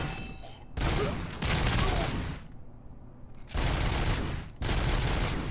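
Gunfire in the video game RoboCop: Rogue City comes in two loud, dense automatic bursts separated by a short pause, with a voice talking in between.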